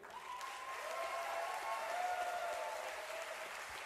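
Audience applause for the band at a live show, a sustained, even wash of clapping from a crowd with some faint background tone, moderately distant and steady throughout.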